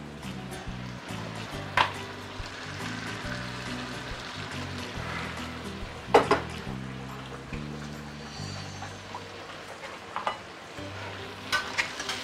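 Kam Heong spicy crab being stir-fried in a wok, with a steady sizzle of frying and repeated scraping stirs of the spatula, occasional sharp clanks against the metal, close and unbroken with no talk.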